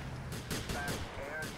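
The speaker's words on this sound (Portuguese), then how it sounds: "Quem é que tá atirando em mim?" Gunfire from police in GTA IV, several sharp shots spread across the moment, moderately loud and mixed with game noise and a voice talking.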